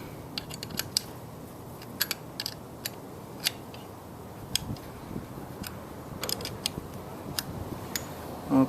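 Small metallic ticks and clicks of a tool tightening a fitting on a motorcycle carburetor, irregular and close, with quiet gaps between them.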